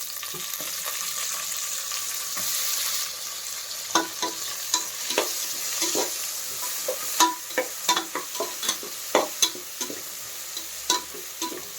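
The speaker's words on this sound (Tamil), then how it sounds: "இதில் உப்பு மட்டும் ஆட் பண்ணிவிட்டு இது வந்து நல்லா ப்ரௌனிஷாக வர வரைக்கும் நம்ம நல்லா வந்து வதக்கி எடுத்துக்கலாம்" Onions with salt sauté in a pan for soya biryani, hissing in a steady sizzle, while from midway a spoon scrapes and stirs in a quick, irregular rhythm nearby, with no voices.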